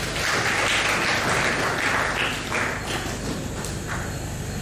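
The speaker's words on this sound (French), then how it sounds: "Quant à ce, on peut applaudir." Audience applause at an event with the Bishop of Boma, heard as steady, dense clapping over a loud background hum, with a few sharper claps standing out.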